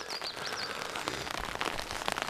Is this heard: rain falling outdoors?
yes